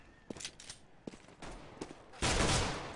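Uzi fire in a Counter-Strike esports match, with a few sharp separate shots followed by a sustained loud burst near the end.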